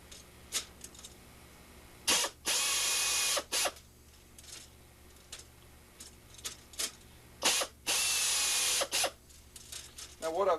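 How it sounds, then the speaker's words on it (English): Bursts of a power tool countersinking holes in an RV-6 aircraft wing spar, two long whirring runs and several short blips, close and loud against a quiet workshop background. "I like to just go ahead and countersink the spar"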